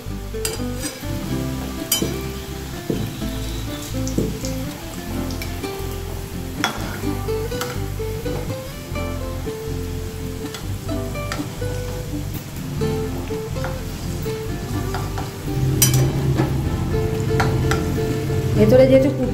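Peraki snacks frying in hot refined oil over a low flame, a steady crackling sizzle running throughout and swelling louder near the end, with no talking.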